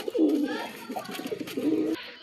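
Pigeon cooing at close range, a few low throaty rolling coos in bursts with short pauses, against faint background noise, in a bird-keeping setting in Kolkata.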